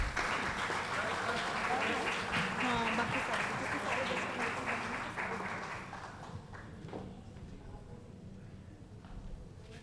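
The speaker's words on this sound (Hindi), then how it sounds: "जोरदार तालियां प्लीज।" Sustained audience applause at an awards ceremony, dense steady clapping that carries for about six seconds before thinning and fading out.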